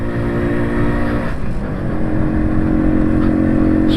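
A 1984 MZ TS125 two-stroke motorcycle running on the road in fourth gear, its small engine droning loud and steady and close by, with a slight rise in revs toward the end; no speech.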